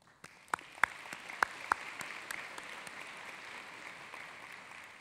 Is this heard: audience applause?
yes